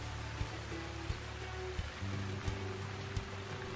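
Steady rainfall hisses evenly, with faint low knocks at regular intervals and a hum underneath, no voices.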